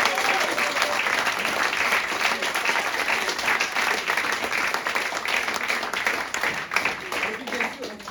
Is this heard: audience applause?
yes